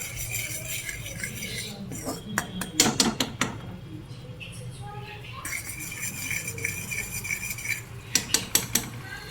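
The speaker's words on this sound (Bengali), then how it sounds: "এবার এটাকে ভালো করে মিশিয়ে নিয়ে তারপরে মাশরুম এইগুলো পটাটাগুলোকে দিয়ে দিতে হবে" A metal spoon scraping and clinking in a pan while chilli garlic sauce is mixed for a Korean-style potato and mushroom dish, with irregular close clatters over a low background hum.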